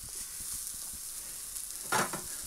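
A home-made beef burger fries in a thin, cheap frying pan, sizzling with a steady bright hiss and soft crackles. It stays fairly quiet and close, and a brief louder spit comes near the end.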